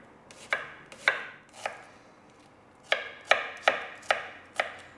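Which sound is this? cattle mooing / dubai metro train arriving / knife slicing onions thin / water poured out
knife slicing onions thin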